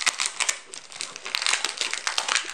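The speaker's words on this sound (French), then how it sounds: "Je vais l'ouvrir parce que" A packet of gold foil scrapbooking paper is opened, with dense, continuous crinkling and crackling of foil and plastic close by for a couple of seconds, no talking over it.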